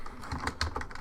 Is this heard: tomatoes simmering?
no